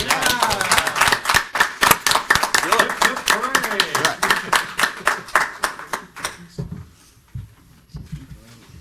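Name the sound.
round of applause at a board meeting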